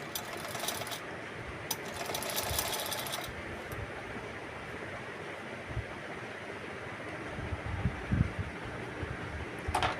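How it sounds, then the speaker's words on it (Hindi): A sewing machine stitching the side seam of a kurti gives a faint, rapid mechanical whirr in a few short runs, with quiet handling sounds in between and a small clatter near the end. "और फिर यहाँ पर भी सिलाई कर लेंगे"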